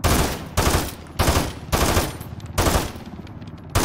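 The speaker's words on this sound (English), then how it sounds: "I'm gonna try to get some suppressing fire on him" Video game machine gun laying down suppressing fire, several rapid sustained bursts of loud automatic shots separated by short pauses, close and alone with no talk.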